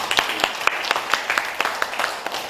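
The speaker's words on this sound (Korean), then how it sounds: "우리 와 주신 분들 다 같이 박수 한번 치고 시작하겠습니다" An audience at a community talk claps together, a moderate wash of hands with sharp individual claps standing out, fairly close and continuous throughout.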